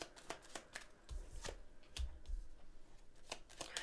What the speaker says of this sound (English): so we'll pull all the cards and then we'll go into them.